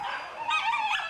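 A dog in an animal shelter in Thailand gives short yipping barks that slide into high whimpers, close and fairly loud, two quick bursts.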